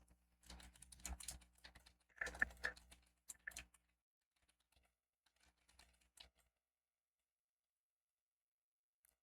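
Quiet computer keyboard typing in short bursts of rapid key taps with pauses between, entering a photo caption on a PowerPoint slide, then a few isolated faint taps before silence.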